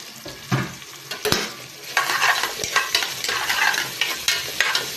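Sautéing with bay leaves in a pan for pork adobo in tomato paste, a close, loud sizzle with repeated scraping stirs in an uneven rhythm.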